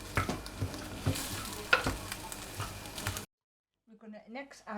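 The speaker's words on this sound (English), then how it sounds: "As you can hear, my slow cooker is frying at the moment." Chilli mince frying and being stirred in a slow cooker, a steady close sizzle with scraping stirs for about three seconds, then a break into quiet with a voice talking.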